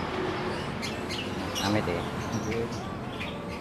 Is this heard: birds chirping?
yes